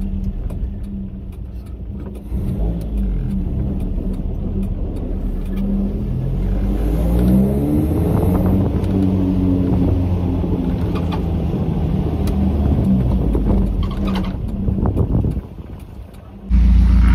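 A Datsun 720 pickup fitted with an MSD 6A ignition box is driven, its engine droning and revving steadily under heavy wind buffeting, with gear changes shifting the pitch before a sudden drop near the end.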